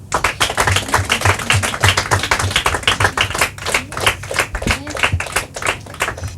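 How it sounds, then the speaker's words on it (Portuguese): An audience at a Portuguese-round quiz show claps for several seconds, producing distinct, fairly close hand claps in a quick uneven rhythm that thins slightly toward the end. "Palmas para elas."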